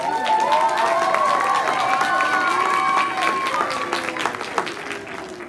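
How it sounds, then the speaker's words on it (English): A crowd at a lip sync contest night claps and cheers in a steady, full wash that runs under sustained musical tones, easing off slightly toward the end. "How about a big round of applause for Mr. Nat?"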